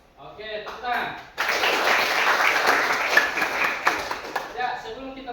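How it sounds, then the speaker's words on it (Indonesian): Classroom students break into a burst of loud applause after a short stretch of a teacher speaking, clapping dense and close for about four seconds before speech resumes. "Oke, tepuk tangan."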